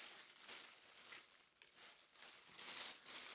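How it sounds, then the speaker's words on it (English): Clear plastic bag packaging for a Selens 5-in-1 portable triangle reflector being peeled open, giving a close, steady crinkling and rustling of thin plastic with bursts of louder crackle, and no voices. "open up the packet by, of course, peeling apart the flap that's keeping the clear plastic bag packaging closed."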